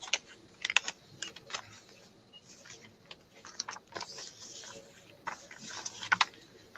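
Paper book pages being folded into the spine during an origami and book-folding workshop, heard as soft close crinkles, taps and creases in an uneven rhythm, quiet and alone.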